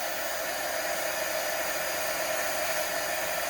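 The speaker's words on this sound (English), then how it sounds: "throw on our heat tool and see the magic happen" A heat tool blows hot air in one continuous, even, loud hiss that holds steady throughout, with no voices.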